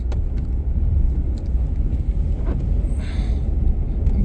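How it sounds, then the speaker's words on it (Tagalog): A four-wheel-drive truck drives along a snowy highway during a Canadian winter, with a steady, loud engine and road rumble from inside the cab and faint wind noise throughout. "Itong truck 4-wheel drive."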